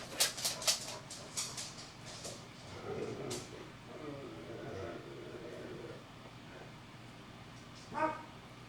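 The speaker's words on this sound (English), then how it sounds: "My dogs are barking at something." Dogs bark several times in a quick burst at the start, then fall quiet amid faint background noise before one more short bark near the end.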